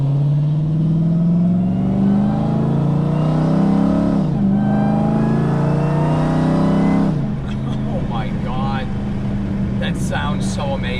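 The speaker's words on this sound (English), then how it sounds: "The supercharger is awesome" A supercharged V8 in a Hellcat Redeye, exhaust valves closed, revs in loud, rising and falling sweeps with a whining supercharger note. The engine swells, dips around four and seven seconds, then settles into a lower drone.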